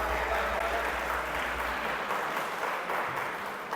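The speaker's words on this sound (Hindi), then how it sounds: "मैडम के लिए तालियां बजाई जाए जी," Audience in a lecture hall applauds after a talk on alternate dispute resolution, a steady wash of clapping that fades slightly toward the end.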